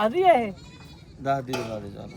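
A goat bleats loudly twice with wavering, nasal cries, separated by a short pause, over faint background noise at a goat market in Dhanaula, Punjab.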